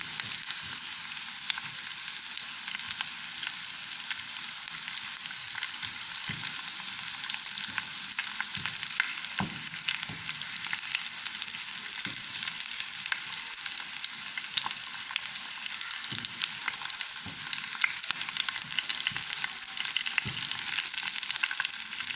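Garlic fries in ghee in a pan for mung daal, giving a steady, close, crackling sizzle with occasional stirring scrapes and no talking.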